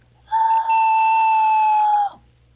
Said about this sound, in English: talked about how I can whistle with my throat